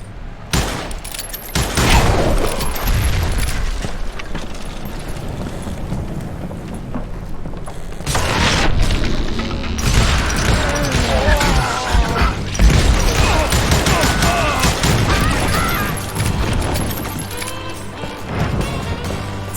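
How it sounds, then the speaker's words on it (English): Loud, booming dynamite explosions and crashing debris in the Wild West shooter Call of Juarez Gunslinger, rolling through a dense, noisy game mix with repeated heavy impacts over about twenty seconds. "So that was all the dynamite?"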